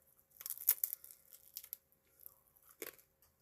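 Crunchy homemade focaccia with a crisp crust gets bitten and torn, a few close, quiet crackling crunches and chewing sounds in bursts, then a final crisp bite after a short pause.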